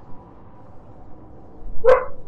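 A pet dog gives a single sharp, loud bark near the end after a quiet stretch.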